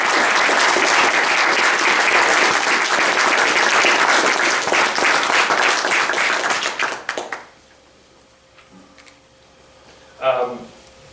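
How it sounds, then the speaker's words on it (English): Loud, dense audience applause in a hall at an event about a story of wartime heroism, filling about seven seconds before cutting off, followed by a brief quiet murmur and a short voice. "join me in giving them a round of applause"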